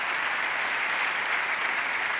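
Audience applause at the 2020 Girona literary awards ceremony, steady and dense throughout with no voices over it.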